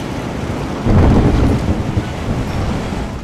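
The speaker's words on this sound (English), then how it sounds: "rain that just won't quit" Heavy rain pours steadily in a thunderstorm, with a deep rolling thunder swell rising about a second in and lingering under the continuous hiss of the downpour.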